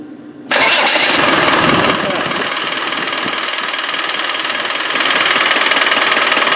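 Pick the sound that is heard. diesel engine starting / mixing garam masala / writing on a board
diesel engine starting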